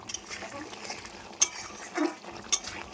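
Metal spoon stirring potato curry (aloo dum) in a pan, with soft scraping and a few sharp clinks against the pan's side under light background noise.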